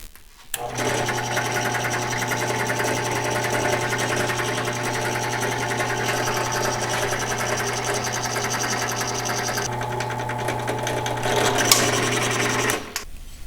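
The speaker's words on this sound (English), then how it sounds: "I'm going to use this hacksaw blade, and I'm going to put it right up on the line here, and hopefully this will cut it through" A hacksaw blade works through the hard rubber grip of a Yamaha FJR1300 motorcycle handlebar, giving a close, steady, continuous rasping drone that runs unbroken for about twelve seconds before stopping abruptly.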